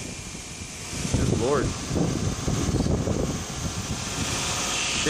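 Strong wind buffets the microphone outdoors during a 1998 Toyota Camry 2.2L water pump job, a steady broadband rumble that swells and stays loud throughout, with a man's brief spoken exclamation over it.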